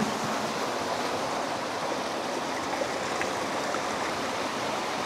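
Steady rushing water at the base of Talon ng Leon falls in Silang, Cavite, a dense continuous roar with no voices over it.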